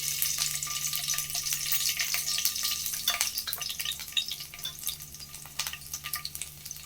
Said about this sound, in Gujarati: ઓઇલ ગરમ થઈ ગયું છે, તો એમાં આપણે લસણની કળીનો વઘાર કરશું